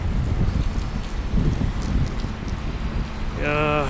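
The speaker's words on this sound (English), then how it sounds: "Well, it's raining cats and dogs around here." Steady heavy rain pours down in windy, cold weather with a dense hiss and pattering, and a brief tonal sound cuts in at the very end.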